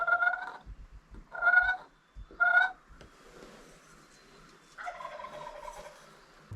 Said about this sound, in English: I was in there and I heard gobbling.